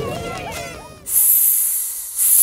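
A cartoon steam hiss in an alphabet learning app, two loud bright bursts of hissing, the second following a short break, after a voice speaks.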